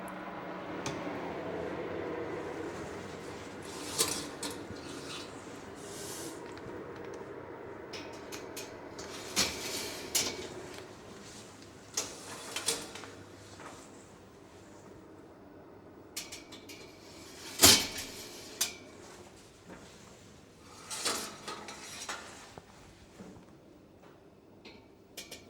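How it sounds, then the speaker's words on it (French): Pieces of white meat go into an oven preheated to 100 degrees for roasting, with scattered clunks and knocks of the door and trays over a faint background hum. "Je vais pouvoir enfourner mes pièces de viande."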